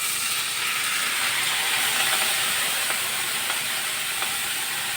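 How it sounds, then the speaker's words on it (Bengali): A rare sea fish frying in a pan gives off a steady, loud hiss and sizzle as a little water is added, the sound unbroken throughout with no speech. "এর ভিতরে আমি এখন হালকা একটু জল দিয়ে দেবো।"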